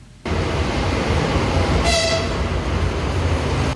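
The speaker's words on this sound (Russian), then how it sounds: "Прибытие этого поезда ждут с нетерпением." A train pulls into a station in the Samara region, its steady loud rumble filling the scene from start to finish, with a short horn toot sounding partway through.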